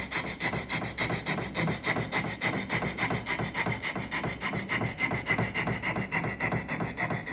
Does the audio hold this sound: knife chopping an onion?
no